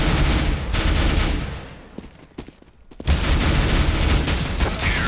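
Sustained automatic P90 gunfire in Counter-Strike: Global Offensive, loud dense bursts of rapid shots that break off into a quieter lull with a few scattered single shots before another long, heavy burst.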